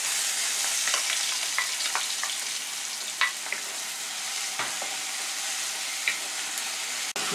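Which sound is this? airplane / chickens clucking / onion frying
onion frying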